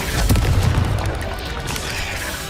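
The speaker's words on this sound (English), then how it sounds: "Repulsor!" A Repulsor spell cast in Hogwarts Legacy, a booming blast that hits hardest early and then rumbles on with a crackling, gunfire-like tail, no voices present.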